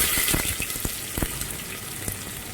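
Chopped onion drops into hot oil with mustard seeds and curry leaves for dal kichadi, giving a loud continuous sizzle with a few sharp pops and crackles.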